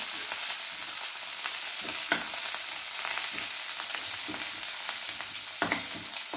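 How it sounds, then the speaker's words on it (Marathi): Coriander seeds, fresh coriander and garlic sauté in a pan for a green chilli kharda, with an even close sizzle broken by short scraping stir strokes and no talking. "तर त्यात धने टाकूया आणि ही कोथिंबीर आहे ना, ती त्यात घालूया. आणि हा लसूण पण घालूया त्याच्यात आणि चांगलं परतून घेऊया"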